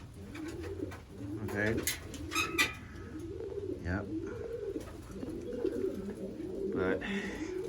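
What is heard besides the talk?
racing pigeons cooing in the loft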